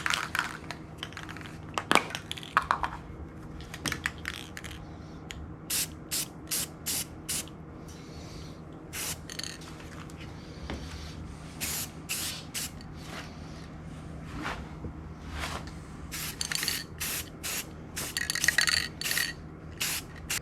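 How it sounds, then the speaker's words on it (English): Short hissing bursts of an aerosol can spraying high performance enamel paint onto an old gun receiver, repeated many times at close range with brief pauses between sprays. "But I do have some high performance enamel paint. So I'm gonna paint it with that."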